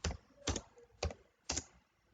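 Code being typed on a computer keyboard: four distinct, evenly spaced key presses, close and fairly quiet, in a slow rhythm with short silences between them.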